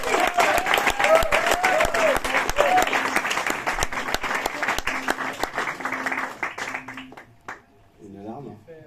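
An audience at a Silencio Club concert applauds a band, dense steady clapping with cheers and voices mixed in, fading out near the end.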